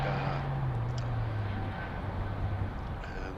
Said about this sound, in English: Oh, we've got Brussels Airways flight. Should be on the runway next.